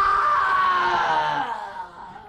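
A single long scream in a radio drama, loud and sustained, slowly falling in pitch and trailing off into a fading groan.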